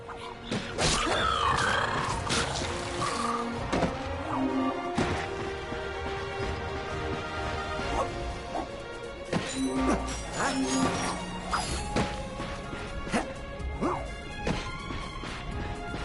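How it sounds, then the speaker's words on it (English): Repeated crashing and smashing impacts of crates being smashed in a video game, sharp and loud, scattered irregularly over a busy game soundtrack with occasional whooshes. "Look at him smashing crates."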